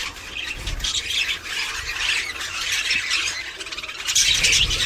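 A flock of birds gathered together squawks in loud, overlapping harsh calls, a dense continuous chorus close by with no speech.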